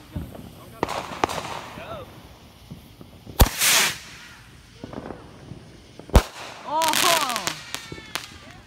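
July 4th firework rockets launch and burst, with two sharp loud cracks each followed by crackling sizzle and whistling trails, amid voices talking and exclaiming between the bangs.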